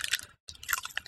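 Someone bites into a sausage still partly in its package and chews with crisp, crunchy snaps, two close bursts split by a short pause.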